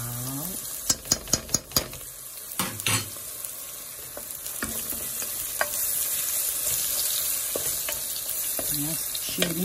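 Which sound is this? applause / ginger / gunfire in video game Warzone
ginger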